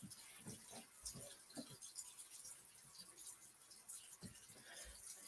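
Tap water runs steadily while brushes are cleaned with a bar of soap held under the stream, a soft continuous splash with a few small knocks and rattles in a sink.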